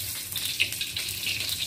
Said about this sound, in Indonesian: Sekarang kita tumis. Masih tetap minyaknya yang tadi ya bersih.